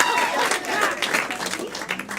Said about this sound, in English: Clap for them again, everyone.